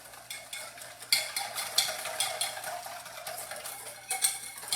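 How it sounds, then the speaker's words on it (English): A whisk rapidly clinking against a bowl while mixing Worcestershire sauce into a mixture, quick rhythmic metallic scraping taps, fairly faint with no talk. "3 tablespoons of Worcestershire sauce. Okay, and then whisk this together."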